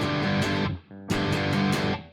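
Distorted electric guitar played through a miked Mesa Boogie amplifier rings out in two loud strummed chord bursts separated by a short, quieter gap, with no voices.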